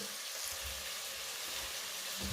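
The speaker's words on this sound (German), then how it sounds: "jetzt werden die Zwiebeln erstmal angebraten" Onions fry in a pan with a steady, bright hiss and crackle that stays even throughout, heard up close with only faint low bumps beneath and no one talking.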